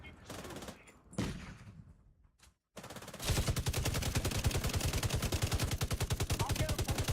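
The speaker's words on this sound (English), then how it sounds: "As long as I get to shoot." Rapid automatic gunfire from the shooter game The Division 2 erupts in a long, loud, steady burst after a few seconds of quieter game noise and a voice.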